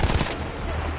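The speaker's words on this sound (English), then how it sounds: "Most inaccurate gun in the world." Rapid automatic gunfire in Battlefield 1, a brief loud burst of shots up close that cuts off quickly and leaves a noisy battlefield rumble behind.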